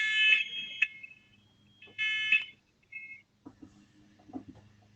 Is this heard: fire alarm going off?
yes